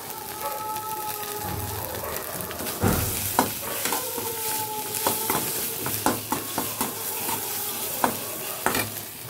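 Ground pumpkin leaf paste stir-fried in a pan until dry, with a steady sizzle and repeated scraping strokes of a spatula at an uneven rhythm, close and clear.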